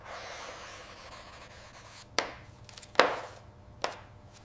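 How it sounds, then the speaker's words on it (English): A coin rubs the corners of an award plaque, a soft scraping hiss followed by three sharp scratchy strokes, close and isolated against a quiet background. "Grab a coin and use it to round off the corners."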